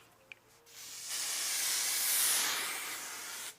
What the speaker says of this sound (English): So as I spray, I'm just going to hold my breath.